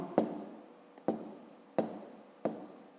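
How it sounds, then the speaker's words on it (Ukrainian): Four short, scratchy writing strokes, evenly spaced and close, as an answer to a fifth-grade math exercise is written down on paper. "Ну, а зараз записуємо відповідь"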